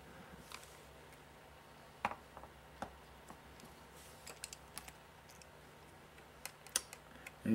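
Small screws come out of a MacBook during a DVD drive replacement, heard as faint, sparse ticks and clicks scattered over quiet room tone, with no voices.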